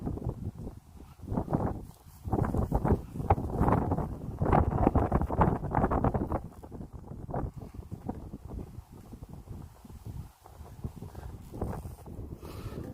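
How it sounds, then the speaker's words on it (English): Wind blows outdoors among trees, buffeting the microphone in loud, rough gusts that rise and fall before easing to a softer rustle, with no one speaking. "Wind's blowing."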